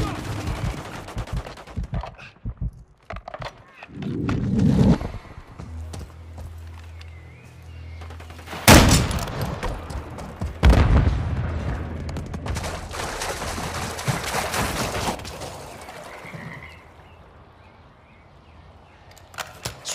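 Video-game gunfire and explosions in Call of Duty: Modern Warfare, with sharp loud cracks and bursts scattered irregularly, a few heavy blasts standing out, amid rumbling background and intermittent speech.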